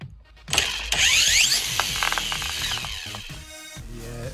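A brushless motor in a Dodo RC trike with a 2S conversion spins up on a dry test, whirring and whining loudly with shifting pitch, mechanical ratcheting clatter and rising and falling revs, running alone with no talk.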